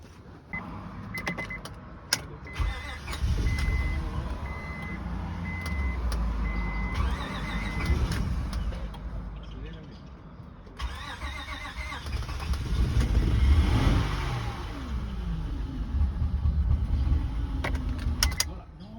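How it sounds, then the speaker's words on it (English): A car that had been under repair for days in Mexico starts up, its engine turning over and then running as a steady, fairly loud rumble, with brief voices and background bustle around it. "And it started."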